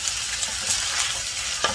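Chicken pad thai frying in a big skillet, with a steady, close sizzle and light stirring scrapes, plus a brief clatter near the end.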